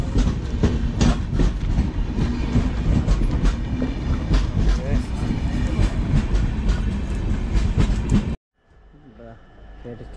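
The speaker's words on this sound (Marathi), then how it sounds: "तर एक्सप्रेस दादरहून सुटते ती" Express train on the Kurla to Khed route in Konkan, with steady loud rumble and rhythmic wheel clatter of the rail cars throughout, ending abruptly into a quieter carriage ambience near the end.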